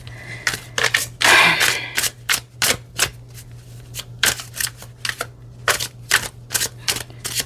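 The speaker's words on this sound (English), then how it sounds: "Giving it a good shuffle." Rapid bursts of riffling tarot card shuffles, repeated in quick crisp flurries with short pauses between, close up and with no talking.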